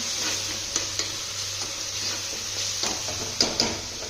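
Ginger garlic paste sizzles softly in a pan, stirred now and then with faint scraping and small knocks from the spoon.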